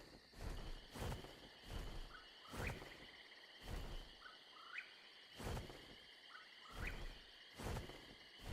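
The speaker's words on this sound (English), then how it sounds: "I hear a whippoorwill." A whippoorwill calls repeatedly outdoors in brush near a tree line, short rising whistled notes at a steady rhythm, faint and distant, over soft rhythmic thumps and rustling close by.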